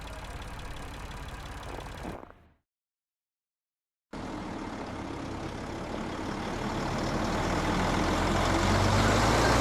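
A truck engine in the video game Lost Horizon: steady low rumbling drone that cuts out to silence for about a second and a half, then returns and slowly grows louder as the vehicle drives on.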